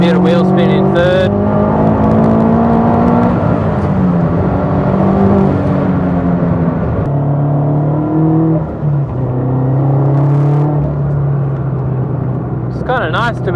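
A 350 hp turbocharged Toyota 86 time-attack car accelerates hard around Wakefield Park, its engine loud and close from inside the cabin, the tone rising through the gears with brief drops at each shift.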